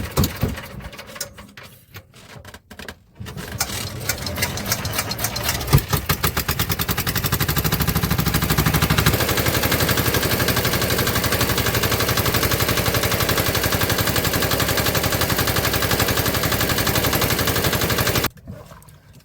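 A small motorboat engine in the Sundarbans mangroves sputters through several starting attempts, then catches and settles into a loud, steady rattling drone before cutting off abruptly near the end.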